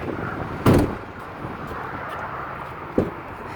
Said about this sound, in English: Give these doors a slam.